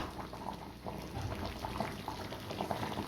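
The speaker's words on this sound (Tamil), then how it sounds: "இப்போ தால்சா வந்து நல்லா வந்து கொதிக்குது" Steady bubbling and simmering of a thick bone dalcha curry in a pan, a continuous close gurgle with soft pops, no voices.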